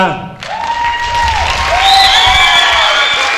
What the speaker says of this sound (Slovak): Ale väčší potlesk si zaslúžia.